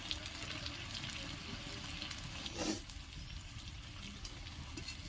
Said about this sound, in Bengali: আর একটু কষিয়ে আমি এরপর জল দিয়ে দেবো